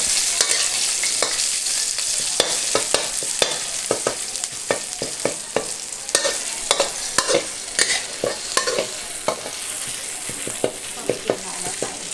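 Stir-frying in a pan ahead of adding squid, with a steady bright sizzle and a busy run of sharp clicks and scrapes from the utensil against the pan, close and continuous.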